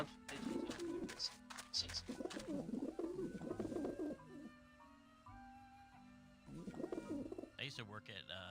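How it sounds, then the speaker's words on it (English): Several rounds of soft, rolling pigeon coos come from the video game Grim Fandango. They are moderately close, with a quieter stretch in the middle, while steady background tones from the game hum underneath. "A bunch of pigeons over this."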